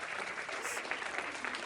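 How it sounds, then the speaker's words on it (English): Audience applause at a staged comedy show, a brief burst of dense clapping from a crowd, steady and fairly faint throughout with no talking. "A round of applause, please."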